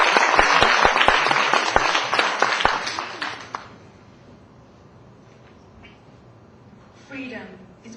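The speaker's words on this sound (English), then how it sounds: "Please give her a big round of applause." An audience at a national speech contest claps for a speaker, loud and dense at first, then tapering off after a few seconds into quiet, with a voice starting to speak near the end.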